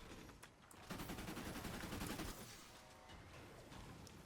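Minigun fire in a battle royale video game, a rapid, dense stream of shots that swells for about two seconds and then continues at a lower level, fairly faint overall with no speech.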